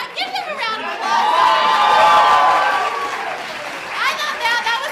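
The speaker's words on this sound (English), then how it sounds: "Give them a round of applause" An audience at an improv theatre show claps and cheers, a swell of applause with excited whoops and shouts that rises, peaks midway, then tapers before a final burst of cheering.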